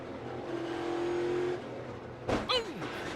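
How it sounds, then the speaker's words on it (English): A NASCAR Cup Series stock car throttles up after a wreck at the FireKeepers Casino 400, engine surging with a sweeping pitch rise and a sharp burst near the end, over steady crowd and track noise. "He throttled up thinking he was clear of the wreck."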